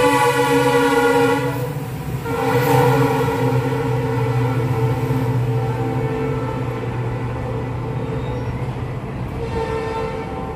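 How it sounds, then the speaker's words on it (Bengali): A train rolls past nearby, a steady loud rumble of wheels on rail with a sustained horn-like tonal drone running through most of the passage, no voices. "ট্রেনটা চলে গেল।"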